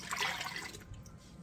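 Warm water running from a kitchen tap, a brief close, steady splashing rush that softens after a moment, with no talk over it.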